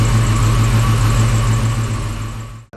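A Fox Body Mustang engine running on a Holley Terminator X fuel injection system, idling steadily with a loud, close, even drone before cutting off abruptly at the end.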